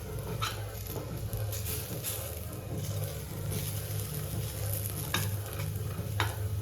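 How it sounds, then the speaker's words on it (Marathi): Potato pieces fry in hot oil for a fasting-day snack, a steady close sizzle with scattered scraping stirs and soft clinks from the pan. "हो बटाटा घेतले फ्राय करायला"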